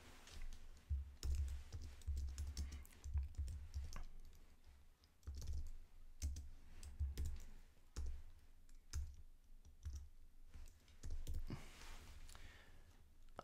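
Typing on a computer keyboard, soft close key clicks arriving in uneven bursts and short pauses, quiet, with no talking.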